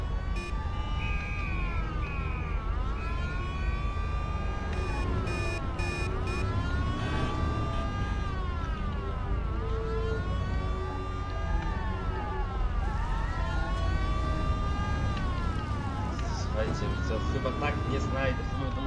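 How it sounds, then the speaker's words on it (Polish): Wailing police car siren in the video game Mafia, sweeping up and down in pitch continuously, loud and steady, with several overlapping tones and a dense background rumble. "ta policja cały czas tutaj trąbi"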